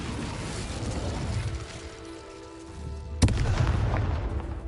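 An Incendio fire spell cast in the video game Hogwarts Legacy, a rumbling burst of magic followed by one sharp loud blast and a fading crackling tail.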